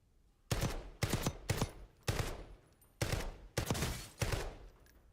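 Rapid bursts of gunfire from a weapon in the Warzone video game, seven loud close shots or short bursts in an uneven rhythm with no talk over them.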